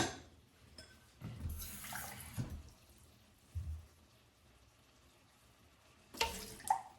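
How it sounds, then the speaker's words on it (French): A small splash of water poured into a pan of tagliatelle with jumbo prawns in tomato cream and white wine sauce, quiet brief pours and trickles in separate bursts, close and soft. "on va juste ajouter un petit fond d'eau, mais vraiment un petit fond d'eau."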